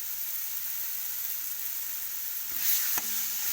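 Tamarind heats in a hot pan while drumstick leaf thokku is made: a steady, close hiss of sizzling that swells near the end, with a single sharp knock of a utensil against the pan.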